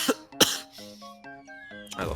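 Two sharp coughs ring out close by, followed by a faint, wavering tone and a final rough throat sound.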